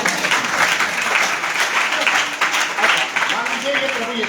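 An audience at a Christian preaching gathering breaks into sustained, fairly loud clapping that carries evenly for several seconds, with some voices mixed into the applause.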